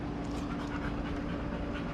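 A dog that has been swimming and playing in mud pants steadily and close by in the open air, a continuous breathy rasp with no pauses and no talking.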